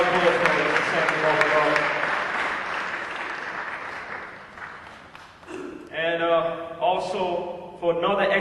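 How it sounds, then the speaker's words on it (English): Applause from the audience at a fashion awards event, a steady round of clapping that gradually fades, then someone speaks over the last of it. "Give a round of applause for Sam DeMar Vagar."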